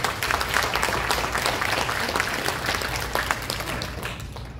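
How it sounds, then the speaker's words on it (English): Town hall meeting audience applauding presenters, a sustained burst of many hands clapping close and fairly loud, thinning slightly toward the end. "let's give them a round of applause,"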